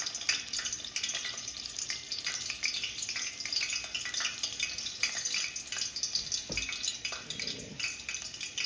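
Chicken leg and thigh pieces for spicy fried chicken frying in hot oil, a steady close sizzle with crackling bursts throughout and no talk.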